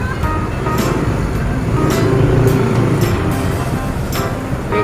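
Jammed city street traffic, a continuous low rumble of idling and creeping vehicles with occasional brief louder passes and horn-like accents, steady and fairly loud throughout.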